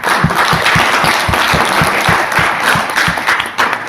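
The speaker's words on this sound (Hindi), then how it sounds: "अपने आप के लिए एक बार जोरदार ताली हो जाए।" A seminar audience claps for themselves in loud, steady applause, with a few distinct rhythmic claps standing out over a dense wash of hand-claps that continues for several seconds.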